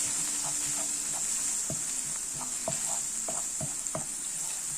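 Pork frying with crushed green chilli, garlic and ginger makes a soft, even sizzle, broken by a few sharp clicks of a spoon stirring against the pan, with no voices.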